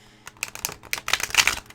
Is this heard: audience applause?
no